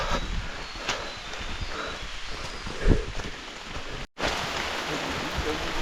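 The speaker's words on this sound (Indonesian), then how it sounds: "hujan makin deras" Rain pours onto a forest hiking trail on Mount Lawu, a dense steady hiss of drops on leaves and ground with occasional louder patters and brief rustles, loud and close throughout.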